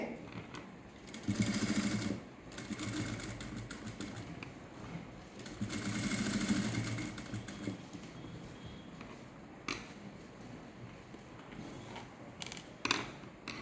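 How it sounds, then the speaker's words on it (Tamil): A sewing machine stitching a patchwork blouse with woollen thread runs in steady mechanical whirring bursts, pausing and restarting, close and moderately loud, with no speech over it. "மூனையும் ஸ்டார்ட் பண்ணுறேன் தைக்கிறதுக்கு"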